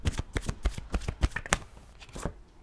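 Romance Angel oracle cards are shuffled by hand close up, a quick run of crisp riffling slaps in an uneven rhythm that tapers off near the end.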